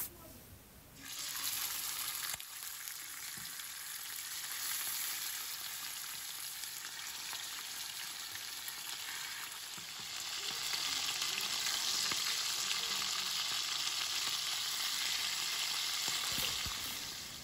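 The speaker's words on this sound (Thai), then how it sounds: "เนื้อหมูแล้วก็เกลือพริกไทยคือเก่าแหละพี่น้องง่าย ๆแซ่บคือเก่าพี่น้องเขาก็สิไปทอดกันเลยจ้า" Salted, peppered pork sizzles steadily in a frying pan, a loud, broad hiss that swells in the second half and carries on alone without any talk.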